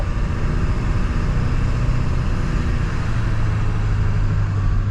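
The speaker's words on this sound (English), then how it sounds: "It's really loud, a turbo." A Ford 7.3 Powerstroke turbo diesel truck engine runs loud and steady, a deep rumble with a constant whine, no talking.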